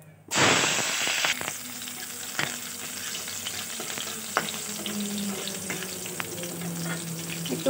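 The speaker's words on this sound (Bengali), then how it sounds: "রসুন আর কাঁচা লঙ্কাটা দিয়ে দেবো।" Whole cumin, garlic and green chili hit hot oil for a prawn do pyaza, bursting into a loud, close sizzle that settles into steady frying crackle with occasional stirring clicks.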